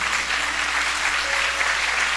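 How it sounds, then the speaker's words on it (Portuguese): A church congregation applauding, dense sustained clapping from many hands that fills the space evenly at a steady loudness throughout, with a faint voice underneath. "Pode aplaudir o Senhor"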